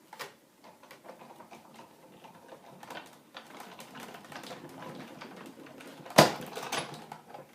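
Paper and a Thinlit die pass through a manual die-cutting machine, giving quiet low cranking and rubbing through the run, then one sharp loud clack near the end.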